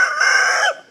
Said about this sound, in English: That red and white hen is, I'm pretty sure she's a New Hampshire red and a white rock cross.